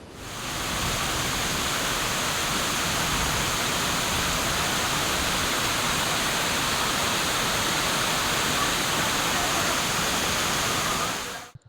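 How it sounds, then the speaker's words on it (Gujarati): Floodwater from heavy monsoon rain rushing past Damodar Kund at Girnar, Junagadh, a dense, unbroken roar of torrential flow that stays loud and constant throughout. "આસપાસમાં જ્યાં નજર કરો ત્યાં પાણી જ પાણી વહેતું જોવા મળી રહ્યું છે."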